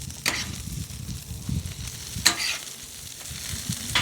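Salisbury steak patties sear in a hot pan with a constant close sizzle, broken by a few sharp bursts of spattering and scraping as they are moved around.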